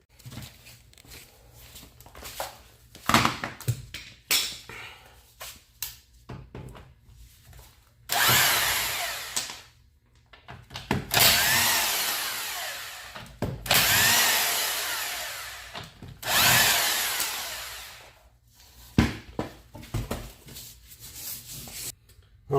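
A power tool works the front wheel of a 2004 Mini Cooper S R53 off the car in a series of loud whirring bursts, several of them long and sustained, separated by quieter handling noises.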